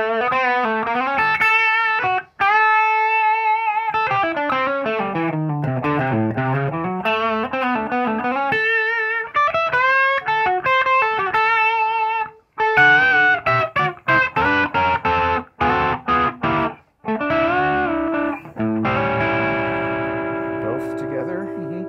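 A 2006 PRS Standard 22 electric guitar played through its bridge humbucker with mild distortion, sustained chords and bending lead lines alone, close and loud with echo-like effects, broken by a few short stops.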